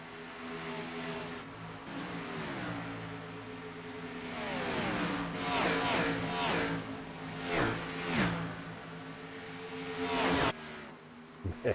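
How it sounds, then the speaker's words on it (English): Race cars in a racing video game, an Auto Club 400 league event, roar past one after another, their engine notes sweeping down in pitch as each flies by. The sound is a steady drone punctuated by several distinct passes. "I love the sound of the cars flying by like that."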